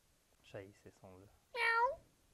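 A toy cat gives a short electronic meow near the end, loud and close, after a few brief bursts of speech-like sound.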